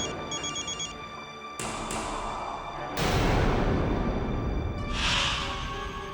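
A telephone trills with a patterned electronic ring at the start of a tense home scene in a Marathi crime serial, then gives way to a louder, dense wash of background sound.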